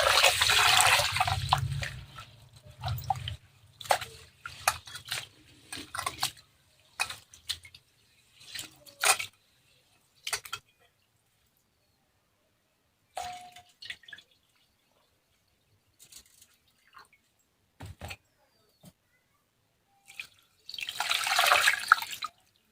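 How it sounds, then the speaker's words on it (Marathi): Ration-shop rice being rinsed with water in a vessel, with close sloshing and pouring at the start and end and scattered drips and splashes between quiet gaps. "आता परत मी अजून एक पाण्याने स्वच्छ धुवून घेते"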